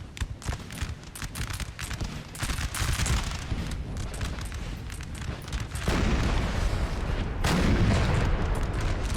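Ongoing battlefield gunfire in Napoleon: Total War, with volleys of musketry and booming 5-pounder artillery blasts rolling over one another in a dense, continuous din that grows heavier toward the end.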